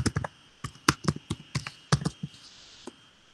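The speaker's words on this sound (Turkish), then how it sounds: "bir kez daha yazalım." Typing on a computer keyboard close by: a quick burst of sharp clicking keystrokes in irregular clusters, thinning out to a last few taps, with no voice over it.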